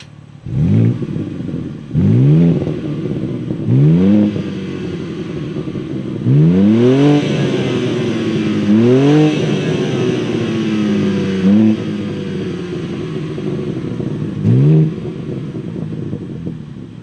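A 2023 BMW M2 G87 engine is revved repeatedly from idle, each blip rising and falling sharply, with several quick rev bursts in a row and some longer pulls, loud and close with no talking.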